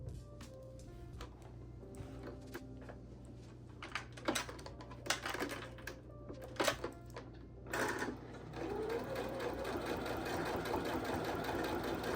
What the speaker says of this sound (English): show you how this machine reacts to thicker fabrics